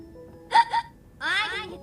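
A person hiccups, a short sharp double catch in the throat, followed by a breathy whimpering vocal sound, close and fairly loud.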